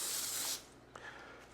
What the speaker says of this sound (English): Spray it so hopefully this will grow and it won't stick.